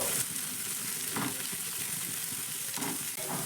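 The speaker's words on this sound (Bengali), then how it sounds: "গাজরটাকে একটু নাড়াচাড়া করে পেঁয়াজের সঙ্গে ভেজে নেবো" Chopped carrot and onion frying in a pan, a loud continuous sizzle with occasional scraping strokes as the pieces are turned, no speech.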